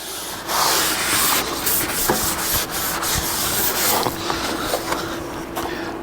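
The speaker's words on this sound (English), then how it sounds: "Then I'll wipe off that excess, put a nice coating on there." Oil being wiped off the hot surface of a grill at a campground, a steady, close rubbing and scraping that runs continuously in strokes with no talk over it.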